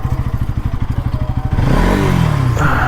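An NS200 motorcycle being parked up close: a rapid, even idle putter, then a sudden rev that swells into a louder, rougher roar.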